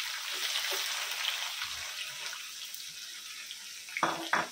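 Onions frying in a mix of ghee and oil with bay leaf and garam masala for mutton biryani, a soft steady sizzle close by with a few louder crackles toward the end.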